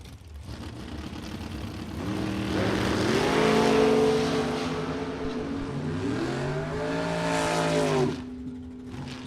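A dragster and a 1966 Chevy Nova launch side by side at a drag strip, their engines swelling into a loud, layered roar. The sound climbs through rising pitch sweeps, then cuts off sharply near the end.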